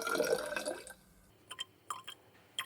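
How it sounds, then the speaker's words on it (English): Water pours into a glass measuring cylinder in a short, splashy stream that fills and then stops, followed by a few faint drips and taps, close and quiet. "I'll measure out the remaining 42 milliliters in the measuring cylinder"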